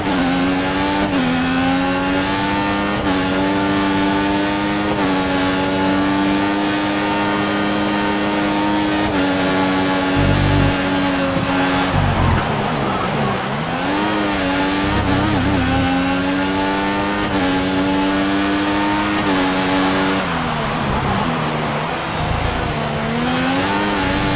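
A Caterham race car in a racing game at Sochi Autodrom drones loudly and steadily at high revs, with brief dips and rises as it shifts gears and brakes into corners.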